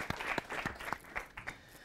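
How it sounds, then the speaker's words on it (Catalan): Studio audience applauding a contestant on a Catalan TV word game show, a short, faint patter of separate claps. "Llàstima, Ariadna, un aplaudiment."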